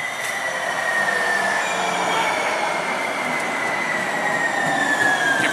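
A train rumbles steadily along the rails, with high metallic squeals from the wheels drifting over a continuous loud roar.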